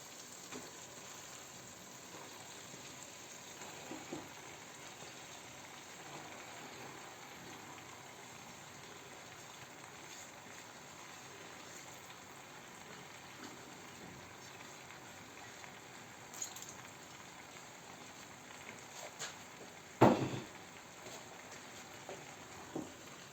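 Mushrooms and cabbage fry together in a pan, giving a faint, even sizzle that runs throughout, with a sharper clink or stir near the end.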